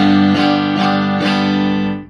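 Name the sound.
electric guitar played on bridge pickup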